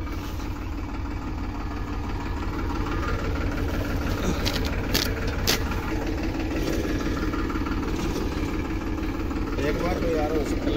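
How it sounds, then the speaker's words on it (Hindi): A Farmtrac 35 tractor engine idles steadily on a farm field during sowing, a continuous low rumble with mild vibration throughout, with a few brief higher noises near the middle and faint talk underneath. "तो ये ट्रैक्टर है फार्म ट्रैक 35, तो अभी ये जाएगा।"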